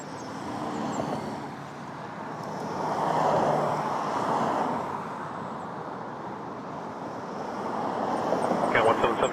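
Boeing 777-300 airliners at Toronto Pearson airport, a distant jet engine rumble that swells and fades, with traffic-like background noise and faint talk.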